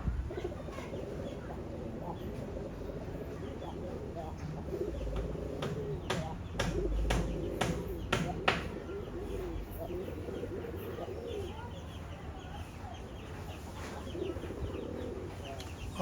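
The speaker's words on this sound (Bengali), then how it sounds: "এই হচ্ছে ব্ল্যাকের ভিতরে 4 নম্বর জোড়ার নর কবুতরটা" Pigeons in a loft coo softly and intermittently, with a few sharp taps and flutters midway and a low background hum, all fairly faint.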